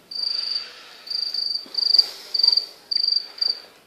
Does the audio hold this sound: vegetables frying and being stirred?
no